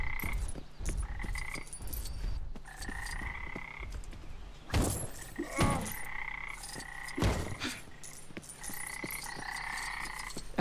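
Toads croak steadily in the LEGO Jurassic World video game, repeated buzzy rasping calls in an outdoor jungle scene, joined by a few sharp thuds and rustles.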